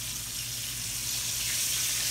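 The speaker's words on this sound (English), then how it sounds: "I'm going to get this brown on both sides here." Pork searing in a pan for old-school smothered pork, a continuous even hiss of frying throughout, close and alone with no voices.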